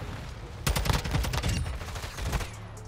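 A teammate's rapid automatic gunfire in Call of Duty: Modern Warfare 2 rings out as a dense burst of sharp, loud shots, stopping briefly before a second volley, close and unaccompanied by talk.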